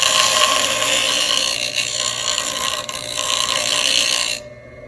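A loud, continuous grinding whir of a bench grinding wheel against metal runs steadily, then cuts off abruptly near the end.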